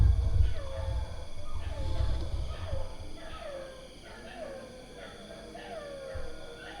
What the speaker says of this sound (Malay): Rancak gila set-set anjing ni. Setiap kali subuh mesti gitu.